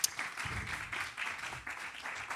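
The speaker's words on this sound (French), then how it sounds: "vos applaudissements pour nos animateurs et animatrices d'atelier," Faint audience applause at a conference workshop session, a steady wash of many hands clapping from a distance.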